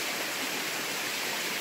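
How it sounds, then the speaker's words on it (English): A small waterfall at Shades State Park in Indiana gives a steady, even hiss of falling water, constant and close, with no voices. "Small waterfall."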